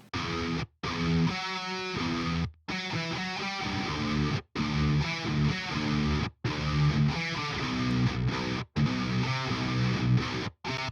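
A distorted electric guitar, with added transient punch on the lows and highs, plays dense rhythmic riffs loud and up front for about eleven seconds, broken by several short abrupt silences between phrases.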